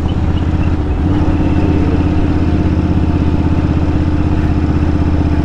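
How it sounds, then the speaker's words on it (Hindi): A motorcycle fitted with a full system exhaust rides on low throttle, its deep steady engine burble loud, close and continuous throughout without breaks. "फुल सिस्टम एग्जॉस्ट पे भी कैसे चुपचाप निकल जाना चाहिए, एकदम थ्रॉटल कम दे दो और निकल जाओ"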